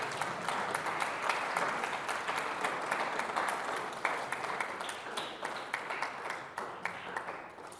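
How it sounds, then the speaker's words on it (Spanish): Audience applause at a church service, moderately loud with distinct individual claps forming an uneven rhythmic patter that gradually thins out. "Denle un aplauso fuerte al Rey."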